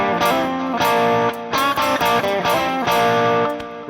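Distorted electric guitar playing the intro riff of a song, with choppy, rhythmic picked notes and hammer-ons, loud and close with no other sounds.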